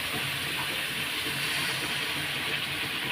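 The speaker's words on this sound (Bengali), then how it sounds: "এখন আমি জল দিয়ে দেবো" Water poured into a hot pan of spiced Bengali fish curry base, cooked down with chili powder, turmeric and salt, sets off a loud, steady hissing sizzle that runs unbroken, with no talking.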